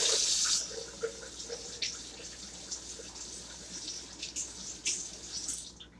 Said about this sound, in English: I gotta wash my hand now.